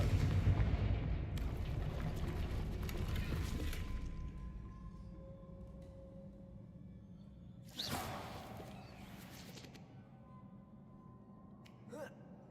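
The explosive Confringo spell is cast in a video game: a deep blast rumbles and fades, followed by a sharp crack and a smaller pop.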